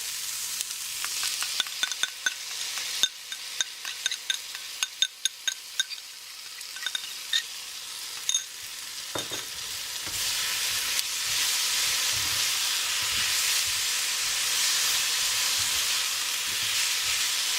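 Satay chicken stir-frying in a pan, first a run of rapid clattering scrapes and taps from the spatula, then a broad, hissing sizzle that swells and holds steady once the sauce goes in.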